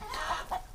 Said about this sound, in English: There's another rooster up there who's half Chanticleer.